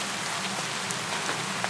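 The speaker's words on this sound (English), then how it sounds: "the sound of the rain" Steady rain falls in a dense, even hiss with no pauses, close and constant throughout.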